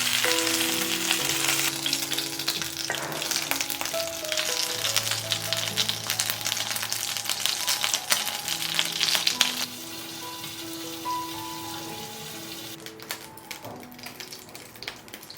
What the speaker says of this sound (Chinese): 把2面煎到金黄焦脆就可以啦。